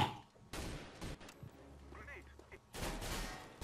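Bursts of gunfire from the video game Counter-Strike: Global Offensive crack out in several clusters, loud and close, with a quieter gap in the middle and voices talking in between.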